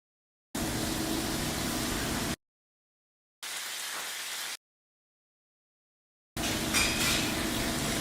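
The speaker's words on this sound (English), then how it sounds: "That frying, that's way too much." Loud crackling sizzle of food frying in a restaurant kitchen, heard in three separate bursts with complete silence between them.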